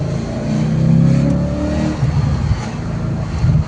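A naturally aspirated 420 hp Audi RS4 V8 with a six-speed manual gearbox, heard loud from inside the car as it accelerates with a rising engine drone, then settles into a rougher rumble.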